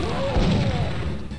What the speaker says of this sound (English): Whoa, that was a big, big explosion.